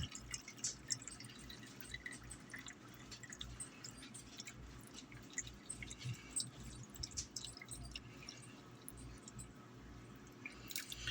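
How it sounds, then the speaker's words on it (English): Water poured into a crock pot holding meatball stew ingredients, a steady liquid splashing and dripping with small bubbly squishes, continuous and fairly close throughout with no talking. "now I'm going to add enough water to fill my crock pot here"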